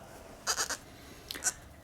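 A young bottle-fed goat kid gives two short, bright bleats about a second apart, close by, over quiet background, with no talk.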